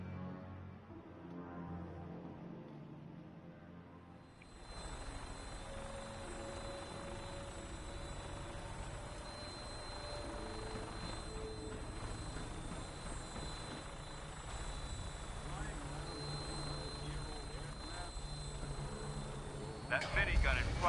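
A Vertibird helicopter from Fallout 4 flies steadily, its engine and rotor making a continuous loud drone that starts abruptly and holds throughout.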